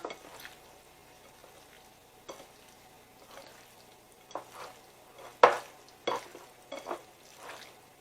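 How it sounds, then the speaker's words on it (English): Crab and shrimp stuffing being stirred and mixed together, with soft scraping strokes and a few sharper knocks spread across the stretch, fairly quiet with no talk. "I'm going to just mix this all together"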